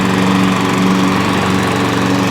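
A self-propelled lawnmower with a faulty drive cable runs loud and close, its engine holding a steady, unbroken roar with no talk over it.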